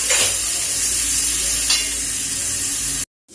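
Ground masala paste sizzles and fries in a hot pan while being stirred for keema paratha, a steady loud hiss with a couple of scraping stirs, then cutting to silence at the end.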